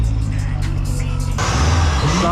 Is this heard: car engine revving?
yes